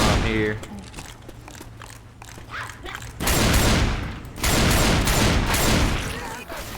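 Shotgun blasts from Left 4 Dead 2, loud booming bursts that come in two heavy volleys after a quieter stretch of game noise, with a player's voice talking early on.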